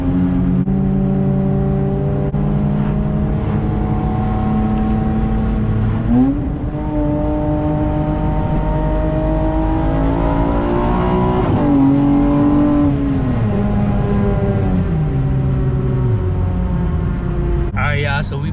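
A modified Honda car with a misfire from faulty injectors, heard on a test drive: a loud engine revving and accelerating through rising and falling pitch sweeps with gear changes, with a voice briefly heard near the end.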